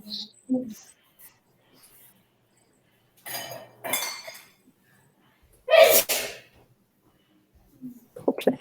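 A single loud sneeze bursts out near the middle of an otherwise quiet room, with soft murmuring voices and faint light clinks before and after it.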